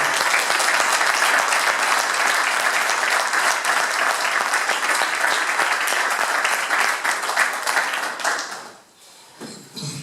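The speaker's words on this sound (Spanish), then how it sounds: "les pido, por favor, que den un gran aplauso a Juan Jesús Acosta" Sustained audience applause at a political and ethics conference gathering, dense and steady for about eight seconds before thinning out and fading.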